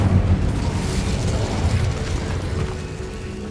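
The Incendio fire spell from Hogwarts Legacy fires off as a sustained rumbling blast with a crackling roar that fades slowly over a few seconds.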